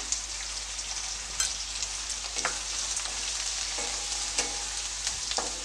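Chitranna mixture with coriander leaves and turmeric sizzles steadily in a frying pan while a spoon stirs it, giving a continuous close frying hiss broken by soft scraping clicks.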